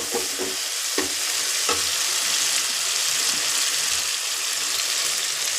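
Tomatoes fry for tomato fried rice, a loud, dense hiss and sizzle at close range with a few scraping stirs near the start, and no voices.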